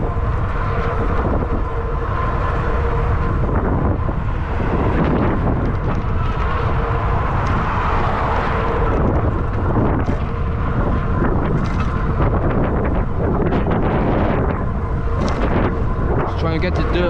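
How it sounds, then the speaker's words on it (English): Heavy wind buffeting the microphone outdoors after a bike ride, a loud continuous low rumble with gusting swells, a voice talking intermittently through it. "So if you guys hear a lot of wind"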